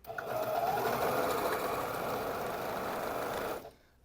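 Domestic sewing machine stitching fabric with its needle and lower shuttle, a steady fast whirring hum held for about three and a half seconds before stopping abruptly.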